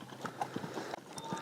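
A horse lopes at an easy pace during light exercise while recovering from founder, its hooves landing in a soft, uneven clip-clop rhythm at moderate distance with faint background noise.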